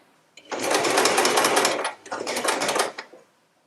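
Sewing machine stitching quilt pieces together, loud and close, running in two steady bursts with a short pause between them.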